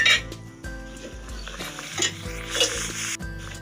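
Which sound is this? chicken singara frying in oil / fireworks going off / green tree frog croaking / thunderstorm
chicken singara frying in oil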